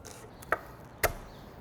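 Two sharp knife chops on a cutting board, onion being chopped by hand for a rustic chimichurri, spaced about half a second apart in an otherwise quiet kitchen.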